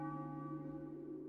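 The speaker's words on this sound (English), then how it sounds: "When yon bell strikes 3, under the axe thou shalt be." Church bell strikes in the Final Fantasy IX video game, one deep resonant ringing toll that hums and slowly fades, heard alone without talking.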